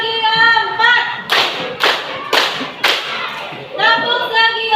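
Group clapping chant called tepuk segi 4 at a class session, several sharp, loud, evenly spaced claps alternating with chanted voices, clapping and chanting in quick rhythm.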